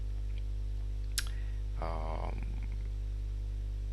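A single sharp computer mouse click, followed by a brief rustle of faint desk and keyboard handling over a steady electrical hum, recorded close while software setup runs on screen.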